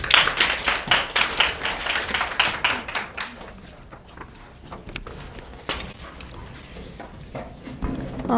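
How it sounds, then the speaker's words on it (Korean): Audience at a university practicum results-sharing event claps to welcome a student presenter. Dense applause comes first, then thins to scattered, fading claps. "청중 여러분의 따뜻한 박수 부탁드립니다."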